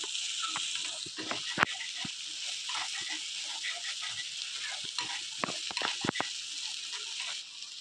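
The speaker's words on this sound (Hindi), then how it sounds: "हम इसको भूनेंगे।" Fish egg masala spiced with garam masala, coriander and cumin powder frying in a pan: a constant bright sizzle up close, punctuated by irregular scraping and tapping of a spatula against the pan.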